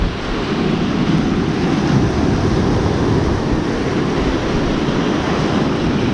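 Ocean surf rolls steadily onto the shore at a bass lure-fishing spot, a dense continuous wash of waves mixed with wind buffeting the microphone, with no speech.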